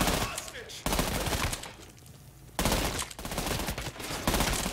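Bursts of rapid automatic gunfire in the video game Trepang2, loud dense volleys separated by a short lull, with voices calling out during the firing.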